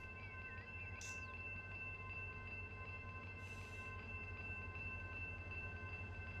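A mainline freight train runs in the Run 8 Train Simulator video game, a faint, steady low rumble with sustained tonal hums and two short hissing bursts, with no talk.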